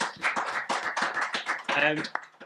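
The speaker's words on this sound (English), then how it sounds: "just have a round of applause for our panellists, please." An audience applauding a panel at a live discussion event on Brexit and Welsh farming, brisk clapping bursts from a modest crowd, fairly close and sustained briefly.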